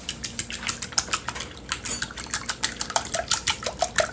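Eggs are beaten in a bowl with a wire whisk for a kale and smoked salmon scramble, giving quick, rhythmic, close-up clinks and sloshing strokes that repeat steadily and never pause for talk.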